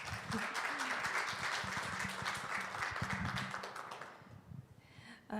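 Sustained applause from a festival audience after a space-themed presentation, dense steady clapping filling most of the stretch before tapering off near the end.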